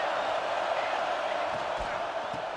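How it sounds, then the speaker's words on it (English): Dense, steady roar of a football stadium crowd cheering for the defense on third down at a high school game, loud and continuous, with faint thuds and an announcer's voice underneath. "Decibels rising as the crowd gets behind this defense on third down."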